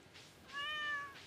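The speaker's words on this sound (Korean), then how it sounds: "고양이 소리 미쳤다 방금." A cat meows once in a video game, a clear, bright, rising-and-falling tonal call lasting about half a second over quiet background.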